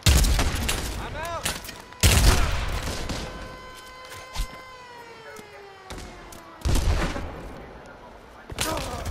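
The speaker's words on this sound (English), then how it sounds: "Shot the pistol." Pistol shots fire in the virtual reality shooter Pavlov on PSVR2, several loud, sharp bangs spaced a couple of seconds apart, each followed by a ringing tail and echo.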